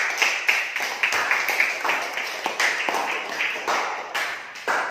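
A class of children claps together in a schoolroom, a quick run of sharp, irregular hand claps lasting several seconds, close and fairly loud with no talking over it.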